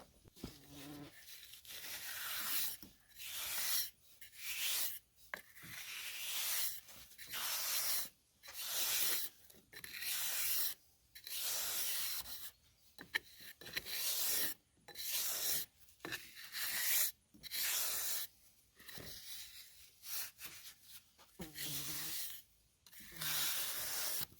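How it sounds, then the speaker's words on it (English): Steel trowel scraping and smoothing mortar chinking into gaps between logs of an off-grid tiny cabin, a close, raspy rubbing in repeated strokes of a second or two separated by brief pauses. "So I'm going to take the trowel, smooth this out, seal up this gap."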